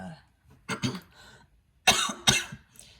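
Several coughs close to the microphone, a short pair and then two louder harsh bursts, with quiet pauses between.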